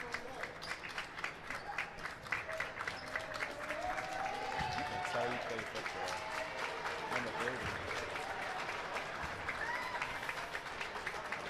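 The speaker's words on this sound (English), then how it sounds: "Lots of applause here for the two seniors." A gymnasium crowd at a varsity high school basketball game applauds two senior players, with sustained, dense clapping and crowd noise filling the space while a commentator talks over it.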